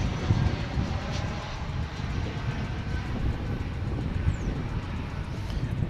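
A Finnair airliner at Dallas/Fort Worth Airport produces a steady, deep engine rumble that continues unbroken throughout.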